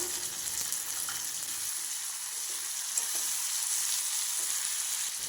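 Tomatoes, curry leaves and a handful of mint fry in a pan for a coconut-free thuvaiyal, producing a continuous bright sizzle with faint occasional stirring taps, steady and close, no voices.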